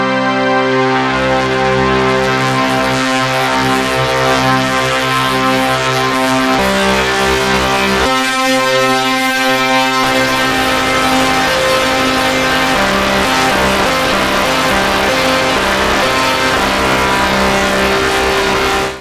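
A loud, harsh modular synthesizer drone using cross FM, with dense buzzing overtones that shift abruptly partway through and then warble and growl, sustained throughout without any voices.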